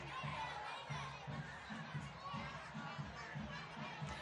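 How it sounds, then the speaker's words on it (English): A Christmas parade crowd chanting and cheering outdoors, a dense, continuous wash of voices with a faint rhythmic pulse, fairly distant and steady throughout. "we can hear the chants and cheers from the crowd"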